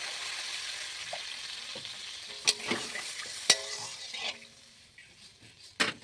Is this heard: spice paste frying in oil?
yes